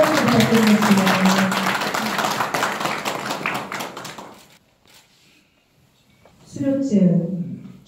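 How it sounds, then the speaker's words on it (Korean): Audience applause at a graduation ceremony for an agricultural training course, a dense clatter of many hands under a speaking announcer, fading out before talk resumes. "큰 박수 부탁드리겠습니다"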